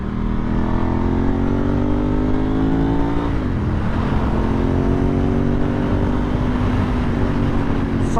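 A Ducati 996 motorcycle cruising smoothly at about 30 mph, its engine a loud, steady low drone with a slight pitch dip and recovery midway, heard up close while riding.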